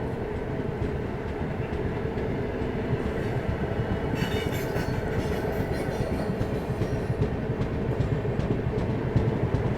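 A train rolling along a railway track, a continuous loud rumble with rhythmic wheel clatter and a brief high squeal of wheels partway through.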